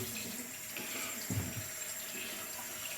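A tap runs steadily into a sink while someone is being washed with warm water, a continuous close splashing flow with a brief louder surge partway through.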